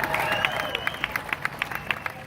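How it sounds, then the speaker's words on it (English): A crowd at an outdoor summer-night fan event in Jonesboro, Georgia claps, a moderate, fairly distant patter with a few sharper claps and a faint cheer. "give yourselves a round of applause for being here"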